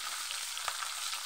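Pork steak frying in a pan, a quiet steady sizzle with small pops of splattering fat and one sharper crackle partway through, with no talking.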